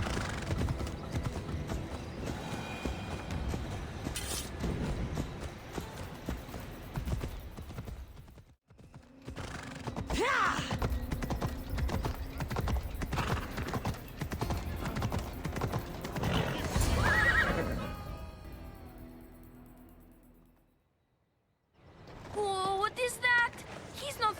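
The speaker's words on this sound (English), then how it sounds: "I need to take this horse either to Adonis or to the stable boy." Rhythmic horse hooves clip-clop close by in Assassin's Creed Odyssey with a couple of neighs and whinnies, then a pause and a final snorting whinny.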